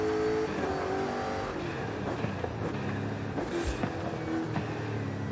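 Off-road truck accelerating in Forza Horizon 5, a steady loud engine drone with rising harmonics running throughout, alone with no talk over it.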